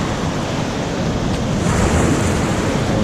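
Ocean waves wash in at low tide near a trench, a steady roaring surf with wind buffeting the microphone and no talk.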